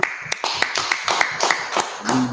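An audience claps in a quick, even rhythm at a live talk event, a run of sharp hand claps close by, with a voice briefly rising near the end.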